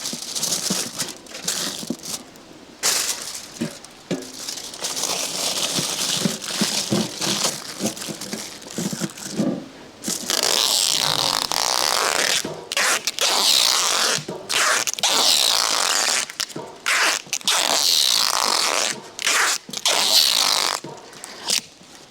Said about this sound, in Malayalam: ഫോയിൽ കവർ വെച്ചിട്ട് നമുക്ക് ടേപ്പിട്ട് ഒട്ടിച്ച് കൊടുക്കാം